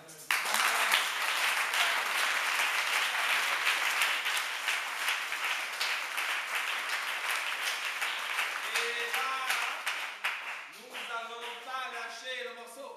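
Church congregation breaking into sustained applause and cheering at a French-language worship service, a dense wash of clapping that fades toward the end as voices and music come through.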